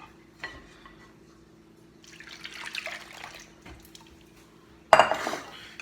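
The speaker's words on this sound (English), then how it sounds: "Now you want to mix and incorporate all these things into each other to make a nice waffle batter." Waffle batter is mixed in a bowl, heard as quiet scraping and soft whisking in a mostly hushed kitchen, punctuated by a couple of sharp utensil clinks against the bowl.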